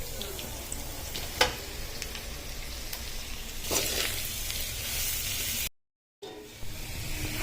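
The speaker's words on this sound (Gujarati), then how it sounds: "હવે હું નાખી દઉં છું ભાજી આપણી" Sargava flower (drumstick) bhaji frying in a pan gives a loud, steady close sizzle with a few sharper crackles, then cuts to near-silence for a moment before the frying resumes.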